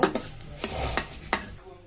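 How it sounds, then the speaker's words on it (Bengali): Rice and onion frying in a hot pan: a constant sizzle broken by four or five sharp scrapes of a spoon stirring against the metal. "এখন আমি পেঁয়াজ আর চালটা একসাথে করে ভেজে নেব"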